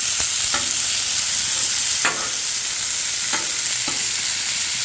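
Ribeye steak bites searing in a pan at around 500 degrees, giving a loud, steady sizzle with a few soft scrapes and stirs breaking through now and then.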